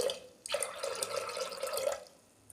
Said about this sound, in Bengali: পরিমাণ মতো আমি জল দিচ্ছি।